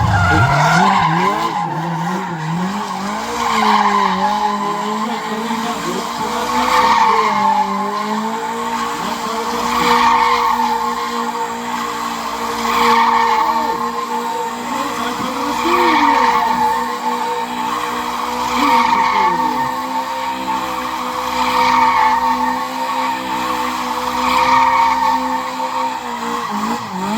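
A stunt car spins and skids at an outdoor motor show, its engine revving steadily while tyres squeal in repeated sweeping surges, loud and sustained for nearly half a minute.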